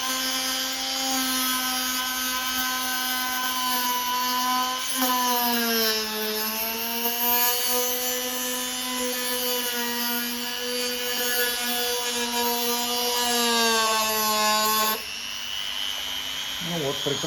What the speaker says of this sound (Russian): Сейчас посмотрим, как работает большая пилочка. Включаем и опять отпилим пластмассу.